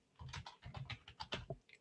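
Typing on a computer keyboard, a quick close series of about a dozen soft clicking keystrokes in an irregular rhythm, faint and alone with no talk.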